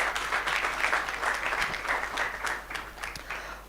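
A round of applause from a conference audience at the opening of the 13th edition AKMCC event, dense, sustained clapping from many hands, loud and close, easing slightly toward the end.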